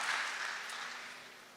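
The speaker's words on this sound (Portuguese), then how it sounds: "Dê uma salva de palmas" Applause from a church congregation fills the space as a dense, steady wash of many hands clapping together, fading slightly toward the end.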